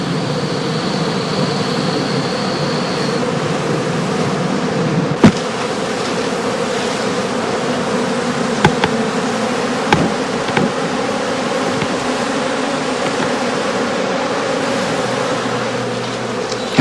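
Honey bees buzz steadily around traditional straw skep hives at a European heath apiary, a dense, continuous drone heard close and alone, with a few brief knocks and clicks breaking through.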